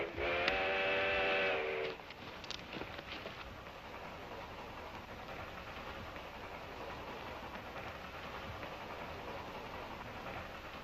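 A train whistle blows once at the start, then the steady rumble and clatter of a moving train continues, somewhat distant, without talking.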